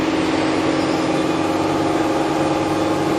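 Spindle of a Toshiba MPF-2114C three-axis bridge-type vertical die and mold machining center running at 5,000 RPM, giving a steady, loud, continuous whine and hum that holds level with no pauses.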